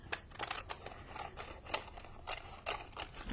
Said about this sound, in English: So I'm just going to trim it to where I need it.